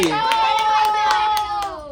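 A few hands clap in a quick, even run of about seven sharp claps while a voice talks over them in a sustained, sing-song tone.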